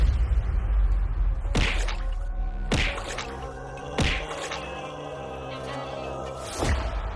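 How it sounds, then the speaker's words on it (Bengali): Several stones thrown one after another at a crocodile floating in the water near a boat, each landing as a sharp thwack or splash at spaced intervals over a steady background hum. "কুমিরটাকে আগে ঢিল মেরে তাড়াই"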